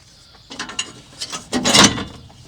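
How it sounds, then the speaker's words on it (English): Plastic bumper trim on a Toyota truck being pried loose during a winch install, heard as a string of close, sharp plastic clicks and snaps that build to a louder cracking pop near the end, with no talking. "Thing pops right off."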